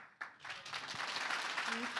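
Audience applause for a talent show performer at a Fourth District talent hunt program, a dense wash of clapping that starts abruptly and holds steady, with a voice speaking over it near the end.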